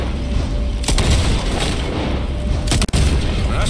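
Gunfire in Red Dead Redemption 2 during a chaotic escape through town, loud booming shots and rumbling blasts filling the mix with a couple of sharp cracks standing out, no speech.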